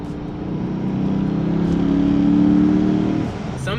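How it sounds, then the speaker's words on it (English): A stock Lexus IS F engine revs up from idle, a loud low drone rising steadily in pitch and volume, holding briefly, then dropping off as the throttle is released. "I'm gonna hit the gas a little bit and you guys tell me what you think."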